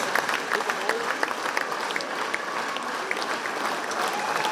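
Steady applause from a crowd at a proms concert, dense and continuous clapping throughout with no pauses.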